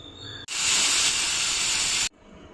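A loud, steady hiss of steam bursts from a pressure cooker whistle for about a second and a half, then cuts off abruptly; close and intense, with no voices.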